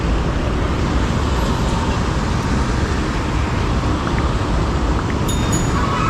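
Heavy highway traffic at a signal near Kalamboli on the Mumbai–Goa route makes a constant, loud, broad roar of passing vehicles with no break and no voices.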